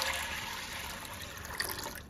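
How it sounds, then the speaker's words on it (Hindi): Water is poured from above onto dried chickpeas in a bowl to soak them, giving a soft, steady splashing rush that stays faint throughout. "तो मैंने यहाँ पे छोले डाल दिए हैं और इसको पानी से इस तरीके से"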